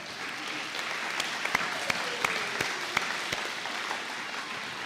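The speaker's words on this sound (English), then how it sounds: "give him a big round of applause" Audience applause at a 2021 high school graduation ceremony, a steady wash of many hands clapping with sharper individual claps standing out, continuous and moderately loud throughout.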